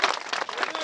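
Applause at a C3WRC rally test event, a dense, steady wash of clapping heard close and fairly loud throughout the short moment.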